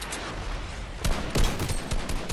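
Gunfire in Fortnite Chapter 2, a few sharp shots and short bursts, moderately loud over steady game background noise.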